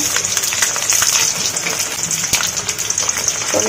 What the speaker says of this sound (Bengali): আগে আলুগুলো ভাজবো